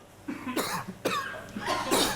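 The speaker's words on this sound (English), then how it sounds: "the minister at the Lutheran church on the first Sunday of Advent during the lighting of the wreath began to cough" A minister in a Lutheran church during an Advent wreath lighting coughs in several short, harsh bursts, close and fairly loud, with brief pauses between them and no speech.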